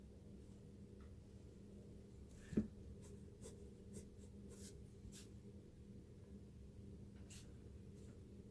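A pencil draws on paper, sketching proportions, with soft scratchy strokes at intervals, one sharper tap near the start, quiet and close against a low steady room hum.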